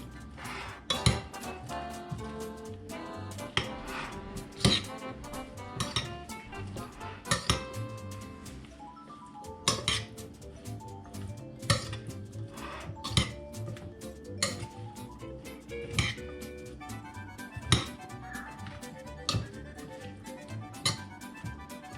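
Utensil clinks and scrapes against a bowl while pizza topping is mixed with salt and oil at home, a steady run of close, bright knocks and rattles with no talking.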